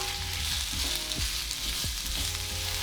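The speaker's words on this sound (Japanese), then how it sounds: "まずは玉ねぎから炒めます" Onions sauté in a pan with a continuous bright sizzle, punctuated by several sharp utensil knocks and scrapes against the pan, close and alone without talk.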